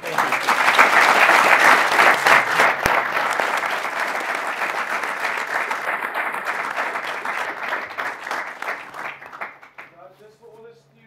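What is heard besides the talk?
audience applause for a panel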